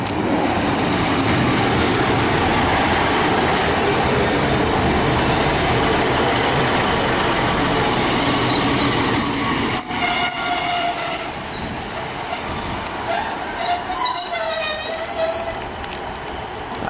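Train 15237 rumbles steadily nearby as it departs Barry Docks station on the Vale of Glamorgan Line, wheels clattering with faint metallic squeals as the noise gradually eases.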